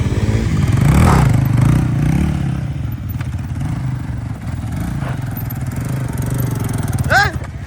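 A motorcycle engine runs and idles in a garage during freestyle stunt riding practice, a rough low rumble with clattering and a brief whine near the end, under people talking.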